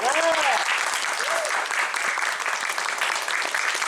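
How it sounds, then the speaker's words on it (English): A voice trails off as loud, steady applause from an audience takes over and continues evenly throughout. "can we give a round of applause to them for a great job this weekend?"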